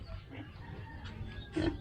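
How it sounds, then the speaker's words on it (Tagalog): Pig grunting on a farm, a few low rough grunts with a louder one near the end, faint against background noise. "Kabukid meron din sila ditong baboy"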